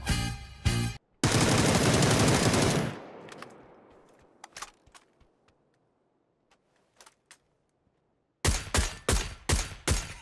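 Replayed gunfire from the video game PUBG: a dense, loud machine-gun burst, then sparse scattered single shots with quiet gaps, and a closing rapid string of five or six loud cracks.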